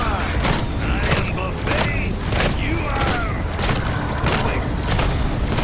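Four-barrel BlunderGat firing in a video game, repeated booming shots at an uneven pace over a busy mix of game sound, with a voice talking throughout.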